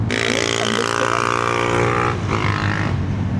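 A motorcycle on a steep uphill climb, its exhaust droning loud and close in a steady, buzzy, tinny roar that dips briefly before picking up again.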